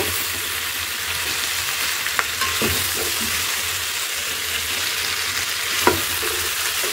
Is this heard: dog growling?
no